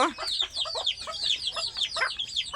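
Desi farm chickens, hens and a rooster, cluck and cackle in quick overlapping calls, near and fairly loud, continuous throughout with no speech.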